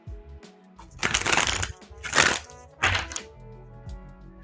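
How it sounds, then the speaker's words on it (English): Tarot cards are deep-shuffled in three loud, close bursts of riffling and slapping, with brief pauses between them and no talking. "deep shuffle in real quick"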